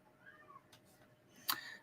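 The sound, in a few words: cat yowling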